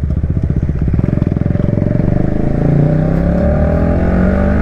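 A KTM Duke 250 motorcycle running with its exhaust removed, loud and close, throbbing in a rapid rhythmic pulse before settling into a steady raw drone as the revs hold.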